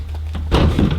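A sliding door lifted and set down onto its bottom track lands with a single loud thunk, a scraping rattle following as the door settles.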